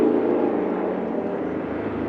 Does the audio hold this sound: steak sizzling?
no